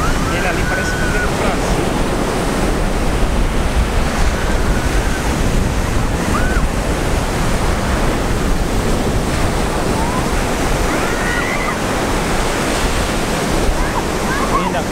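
Ocean surf at Pompano Beach, Florida, a loud continuous wash of breaking waves mixed with wind buffeting the microphone, steady throughout with faint voices and a few bird-like chirps in the background.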